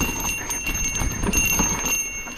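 A bell on the Mr. Toad's Wild Ride dark ride rings continuously in a rapid, even trill, steady and fairly loud throughout with no talking.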